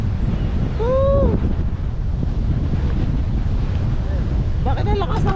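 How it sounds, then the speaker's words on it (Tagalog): Heavy wind roars across a mountain summit, battering the microphone steadily throughout, with excited voices and a brief shout breaking through the gusts. "Bakit ang lakas ng hangin?"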